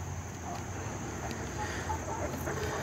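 Chickens cluck softly while pecking and scratching at scattered feed, a steady low farmyard murmur with no clear individual calls standing out.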